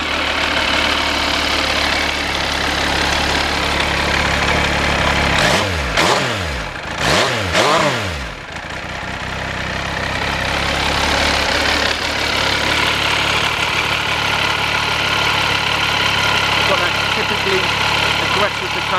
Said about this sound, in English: it sounds very much like an MV Agusta, one of the 4-cylinder MV Agusta engines